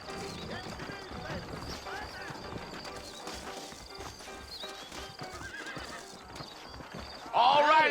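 Saddled horses in the Red Dead Redemption video game clip-clop steadily with hooves, under game dialogue, and a loud, close whinny bursts out at the very end.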